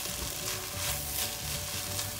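Crushed garlic sizzling in hot oil while making mlokhie with chicken, a steady, close crackle and hiss that continues evenly without any voices.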